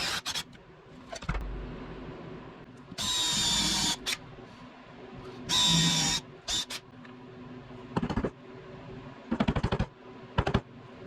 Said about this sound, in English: Now I'll drill a finger hole in the back panel.